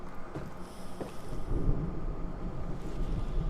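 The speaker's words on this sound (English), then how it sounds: "it's thundering outside my house in real life, so that's adding to the ambiance" Rumbling thunder rolls outside a house during a storm, a low, diffuse, fairly distant roar that swells and lingers without speech.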